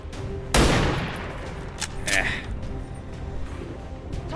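Gunfire from a sniper in the strategy video game XCOM Long War: one loud burst of shot noise near the start, then quieter game effects and a brief whooshing tone, with a voice talking over it.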